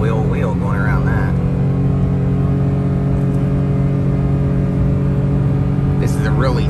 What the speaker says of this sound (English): I'm gonna put it in sport mode here and gonna run it up this hill and see how it does.